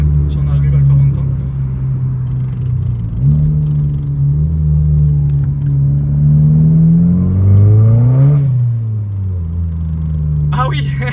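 A Volkswagen Polo R WRC tuned to 400 hp at Stage 2+ revs up loud and close, its engine note rising and falling in steady sweeps before a brief hiss of the dump valve at the end.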